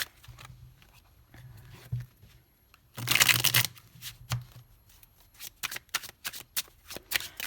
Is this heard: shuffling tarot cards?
yes